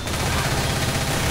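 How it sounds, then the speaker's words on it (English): A pipe bomb explodes in a video game, heard as a loud, dense, continuous roar of blast noise with crackling texture that fills the whole moment at close range. "Pipe bomb."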